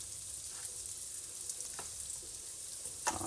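Donut holes frying in hot oil, a steady soft sizzle and crackle with a few faint clicks and pops, close and even throughout, no voices.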